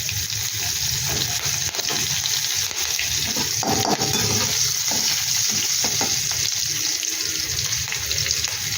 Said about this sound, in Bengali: এবার দিয়ে দিলাম জল